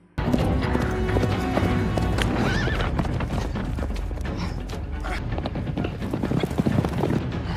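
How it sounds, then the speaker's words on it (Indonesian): A horse gallops away in a film scene, hooves clip-clopping in a rapid rhythm with a whinny near the start, set amid creaks and a dense soundtrack at a steady, fairly loud level. "Tiba-tiba Ragnar mencuri kuda kemudian kabur melarikan diri"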